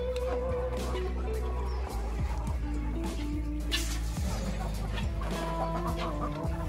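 Farm chickens cluck in short, soft calls on a wet, drizzly day in the countryside, heard over a constant low droning hum.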